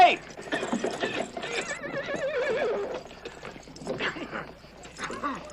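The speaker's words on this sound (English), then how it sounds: "I found a horse." A horse whinnies loudly in the 1973 spaghetti western film My Name Is Nobody, followed by hooves clip-clopping and more neighing, with voices mixed in.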